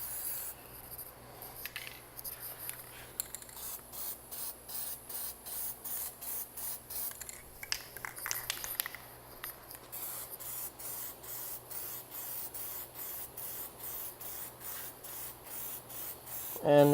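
A spray gun applies paint to a car in rapid, evenly spaced bursts, each a short hiss repeating steadily for the whole stretch, close and crisp with a faint low hum underneath.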